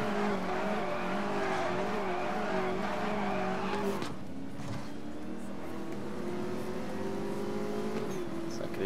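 Porsche 918 Spyder concept engine in Need for Speed: Most Wanted, a sustained droning engine note that holds steady, dips at a gear change, then climbs again, with a voice talking faintly underneath.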